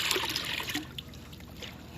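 Water is stirred by hand in a fish tank holding Daphnia, with a close, bright sloshing and trickling that is busiest in the first second, then eases into softer gurgles and drips.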